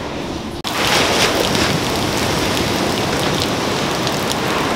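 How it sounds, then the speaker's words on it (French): Heavy rain pours down at a seaside spot, a loud, dense, unbroken roar of drops that starts abruptly after a brief quieter moment and keeps going steadily without speech. "j'espère que vous m'entendez bien avec la pluie."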